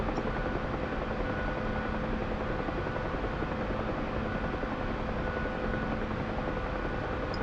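Helicopter in flight during formation practice, heard from the cockpit as a loud, steady, dense rotor and engine roar that does not let up.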